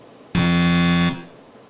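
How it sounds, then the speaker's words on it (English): A single loud, flat electronic quiz-show buzzer lasting under a second, harsh and steady, then quiet. "let's test your buzzers"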